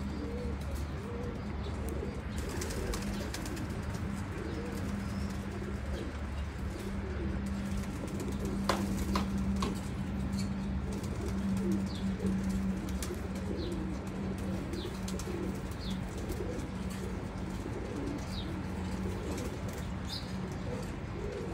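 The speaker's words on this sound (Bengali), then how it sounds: "এই হচ্ছে এক পেয়ার ডাবওয়ালা। এটা হচ্ছে টাইগার ডাবওয়ালা নামে আমরা চিনি" Teddy pigeons, also called tiger doves, coo in soft repeated low phrases at close range, with scattered small chirps and a brief wing flutter over a quiet background hum, with no talking.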